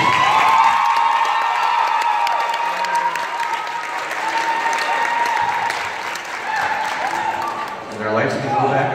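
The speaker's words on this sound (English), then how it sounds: "Let's have a round of applause for our seniors" A high school gym crowd applauds senior volleyball players with sustained clapping, scattered cheers and whoops, with faint talk and voices mixed into the ongoing noise.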